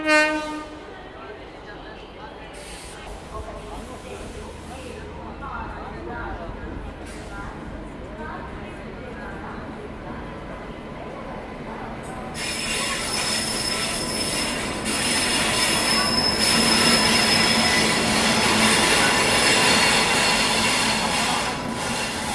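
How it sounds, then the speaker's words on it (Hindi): Rajdhani Express pulling into a station, its wheels squealing and rail noise building loudly toward the end of the clip, with station ambience and a steady undertone of movement beneath. "चलो अब जाके फाइनली अपनी राजधानी एक्सप्रेस जो है वो आ रही है।"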